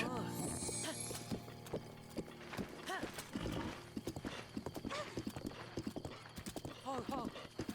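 Horse hooves clip-clop in Breath of the Wild on the Nintendo Switch 2. A loud whinny opens the clip, then uneven hoofbeats keep going under steady talk.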